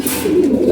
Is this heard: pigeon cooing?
yes